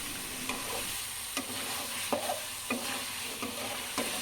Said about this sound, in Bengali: এখন আলুগুলাকে দিয়ে দিলাম। আলু দেওয়ার পরে ভালোভাবে আলুর সাথে মশলাটাকে মেশাবো।